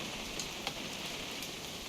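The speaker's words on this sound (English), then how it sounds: "It's gonna rain the whole weekend, isn't it?" Steady, close rain patters across a surface as a dense, even hiss with scattered droplet ticks, continuing unbroken throughout with no voices.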